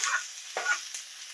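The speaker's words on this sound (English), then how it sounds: "Onion's going to go in first, so the pan is hot enough when it makes a sizzle sound." Onion hitting a hot pan, a soft crackling sizzle that rises briefly and then hisses quietly, close and alone.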